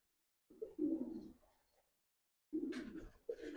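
Domestic pigeons coo softly nearby in two separate low, throaty phrases with a pause between them in otherwise quiet surroundings.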